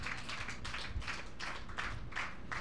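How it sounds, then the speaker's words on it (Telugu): A church congregation clapping hard and in unison during a sermon, steady rhythmic claps of about three per second, moderately loud and slightly distant in a large room. "చప్పట్లు గట్టిగా కొట్టొచ్చు."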